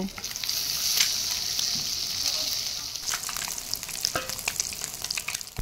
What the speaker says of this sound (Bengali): ডিমগুলো হালকা করে ভেজে নেব